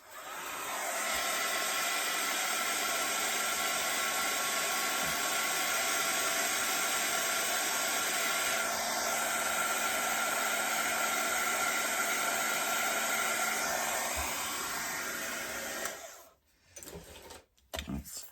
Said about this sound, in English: Now I think we should give this a tiny little dry off.